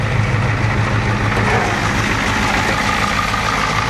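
A 6.9 diesel engine fitted with a new injection pump idles steadily and close by, a smooth, even rumble that holds constant throughout with no talking.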